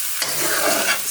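Ginger garlic paste is stirred into onions frying in a hot pan for chicken rezala, a brief close scrape of spoon against pan over loud, steady sizzling.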